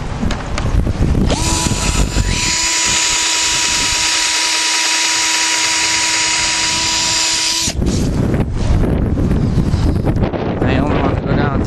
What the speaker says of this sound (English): I'm gonna put it on and then show you how to countersink it.